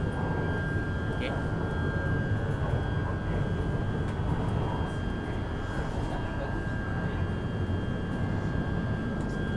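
Interior of a moving passenger train bound for Kuala Lumpur, a steady low rumble and broadband hum throughout with a faint tonal whine, carrying on unbroken beneath quiet surroundings.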